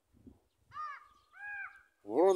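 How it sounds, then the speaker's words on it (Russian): A pair of ravens call with a few harsh, drawn-out caws spaced by short pauses. The calls are fairly quiet and somewhat distant, ending with one louder, closer call. "Вот мне пусть кто угодно говорит, что это ворон с Воронихой."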